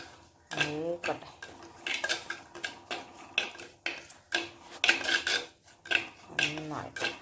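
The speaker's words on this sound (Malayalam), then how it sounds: "ഇനി ഇതെല്ലാം ഒന്ന് നന്നായിട്ടാണ് മൂക്കട്ടെ." Ground spice powders roasting in a pan for a Kerala-style fish head curry, with a utensil scraping and clattering against the metal in repeated short strokes, close and fairly loud, no voices.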